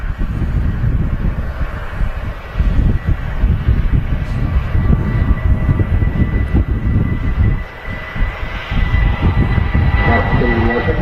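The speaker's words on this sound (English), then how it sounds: "British Airways Retro now rolling." A British Airways airliner in retro livery rolls for takeoff at Manchester Airport, its engines a loud, steady roar that dips briefly before surging again.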